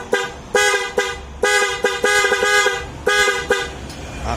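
A loud pop-up horn fitted to a Honda Click 125 v3 scooter blares in repeated short and long honks, about eight blasts with brief gaps, close to the microphone.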